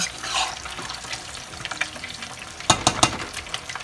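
Blended collard greens with onion fry in moderately hot oil for Liberian-style greens, a soft, uneven sizzle with a few louder bursts of bubbling and stirring near the end.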